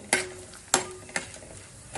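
Three dried red chillies frying in hot oil for tempering, a soft sizzle broken by four sharp stirring scrapes spaced across the moment, close and clear with no talking.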